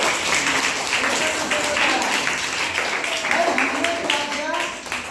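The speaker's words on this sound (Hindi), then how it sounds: "एक बार जोरदार ताली बजा दो" Classroom students clapping together on request during a maths lesson, a loud sustained wash of applause with voices mixed in throughout.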